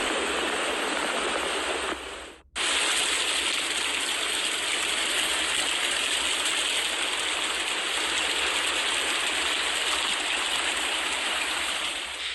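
Floodwater from a tropical storm rushes in a steady, loud roar like a stream or waterfall, briefly cutting out once near the start before resuming unbroken.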